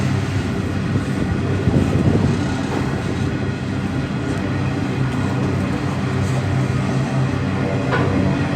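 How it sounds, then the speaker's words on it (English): A train bound for Dunmore passes nearby, its steady rumble of rolling wheels holding at an even, moderately loud level throughout, with faint rhythmic clatter and no voices. "This train's going to Dunmore."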